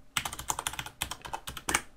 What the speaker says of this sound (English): Now we need to type in our password.